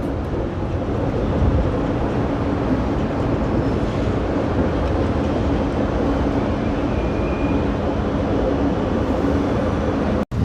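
A train rolls into a Hamburg railway station, a steady, loud rumble of wheels and carriages filling the whole stretch, with wind buffeting the microphone and no talk.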